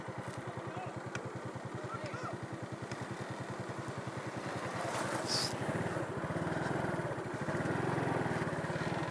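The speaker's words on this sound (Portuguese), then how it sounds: "Olha a moto aí." A motorcycle engine drones steadily close by, growing louder toward the end as it approaches, with people talking over it at a wheelie session.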